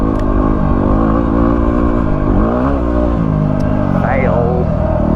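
Yamaha WR250R motorcycle engine revving hard while riding a wheelie uphill, a loud, close, continuous engine roar with rising and falling pitch, heavy wind rumble, and someone talking over it.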